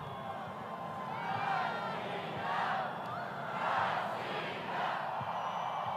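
A large crowd fills Luzhniki stadium in Moscow during Putin's speech, producing a dense, continuous roar of voices with swelling cheers and shouts rising and falling in waves throughout.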